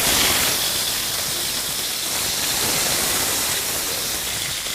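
Shrimp and seafood fry in about two tablespoons of hot oil over high heat, giving a steady, loud, broadband hiss and sizzle that holds without a break and has no talk over it.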